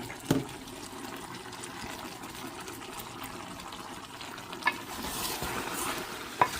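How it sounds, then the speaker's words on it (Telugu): Chicken curry frying in a pot is stirred with a steady soft sizzle and bubbling, broken by a few sharp clinks of the spoon against the pot. "ఈ కలుపుడు చాలా ముఖ్యం."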